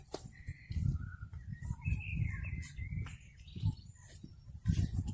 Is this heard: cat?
no